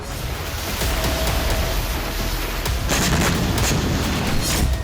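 Glide bombs strike Ukrainian army positions in Donetsk and Kursk, with rumbling booms and crackling blast noise that rise sharply around the one- and three-second marks over a continuous roar.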